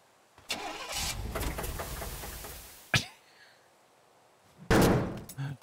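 A car engine in the video game Teardown cranks and starts, running roughly for about two seconds before cutting off, followed by a sharp thud and another short engine burst.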